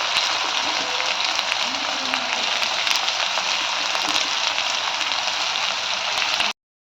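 Chopped onions fry in a hot pan for aloo chapathi, giving a loud, steady hiss and crackle that stops abruptly at the end.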